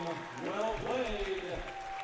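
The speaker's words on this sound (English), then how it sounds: "They were clapping and cheering along with everybody else, so everybody really got into the halftime." A crowd applauds at halftime of a high school basketball game in a gym, a broad wash of clapping under a commentator's talk.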